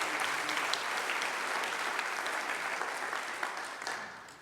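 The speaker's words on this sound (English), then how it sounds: "Let's give everybody a very big round of applause." A large audience at a celebration honoring a retiring rabbi breaks into a long, loud round of applause, dense steady clapping that fades slightly toward the end with no talking over it.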